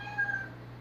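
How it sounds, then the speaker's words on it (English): A house cat meows agitatedly in a newly moved-into home, one drawn-out, fairly faint cry over a low steady hum. "my cat's going nuts"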